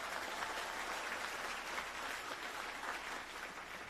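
An audience at a virtual career academy's closing celebration applauds the interns, steady clapping holding evenly for the whole span with no voices over it.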